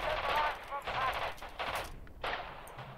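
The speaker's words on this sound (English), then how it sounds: "Artillery firing at India" An artillery barrage in Radio General fires as a run of rapid, crackling bursts in several clustered volleys, moderately loud, with brief gaps between them.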